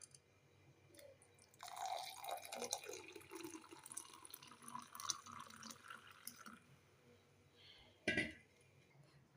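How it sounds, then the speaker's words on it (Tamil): Milk pours into a glass holding mashed garlic: a faint liquid trickle and splash that builds then tapers, followed by a sharp clink of the glass, quiet and close, without talking. "தேவையான அளவு பால் ஊற்றிக்கலாம்."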